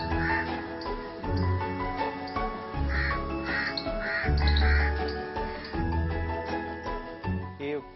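Crows caw repeatedly in a dedicated crow park in Vidisha, India, a steady chorus of harsh calls overlapping one another at close to moderate range, with a faint tinkling behind them.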